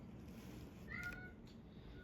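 A pet cat gives a couple of faint, short meows in the background of a quiet room, soft and distant against a steady low hum.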